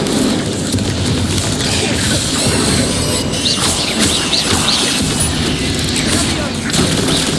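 Hogwarts Legacy spell combat crackles with explosive Confringo and Bombarda blasts and fiery bursts, a dense, loud, continuous barrage of booms and crashes with no pauses.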